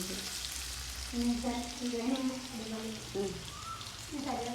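Chicken frying in a pan for a home-cooked chicken curry, a steady broadband sizzle running throughout with a voice talking over it.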